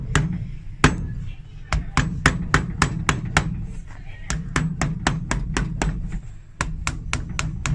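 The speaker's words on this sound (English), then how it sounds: "So we'll hammer these through to the heel on the inside," Nails being hammered through a leather heel while resoling a Loake 201B shoe, a long run of sharp, close metallic blows in an irregular rhythm, with some pauses and a faint bit of handling noise between strikes.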